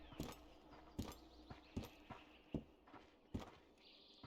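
Footsteps in the survival shooter Road to Vostok, a series of sharp, fairly spaced thumps about every half second to second, moderately close over quiet ambient background.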